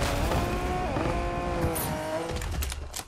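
A car in the Fortnite video game drives with a loud, continuous engine roar, its pitch shifting as the tires squeal and skid, before fading at the end.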